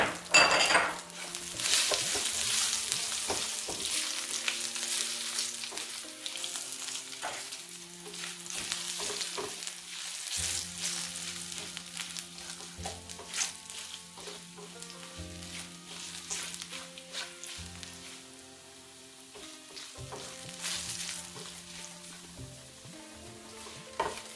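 Garlic and ginger frying in a pan for strawberry pachadi, a continuous sizzle with repeated metal spoon scrapes and clinks against the pan, louder at first and easing slightly later.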